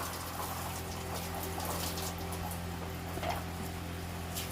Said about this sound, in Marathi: गरम पाण्याने आंघोळ घाल राहिला